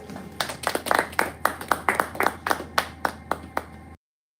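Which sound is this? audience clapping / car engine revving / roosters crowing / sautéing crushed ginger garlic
audience clapping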